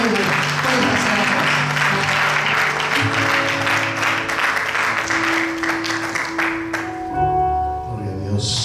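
A church congregation applauds loudly and continuously, with music playing underneath and voices mixed in as the clapping fades near the end.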